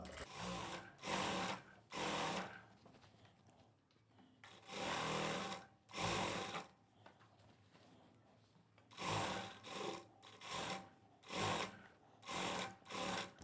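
A sewing machine stitches a single-tuck blouse in short repeated whirring runs, each lasting a second or two with quiet pauses between, close and steady.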